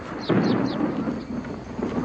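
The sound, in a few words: thunder of an approaching storm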